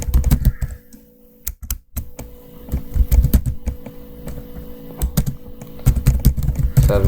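Someone types a note on a computer keyboard, with close, crisp keystrokes clattering in quick, irregular bursts and short pauses throughout.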